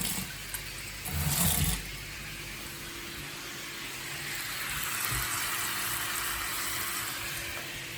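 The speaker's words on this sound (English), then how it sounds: "I'll put a little bit of water in here." Water poured from a container into a stew pot of potatoes and passata, a brief splashing rush of about a second followed by a faint, steady background hiss, with no voices.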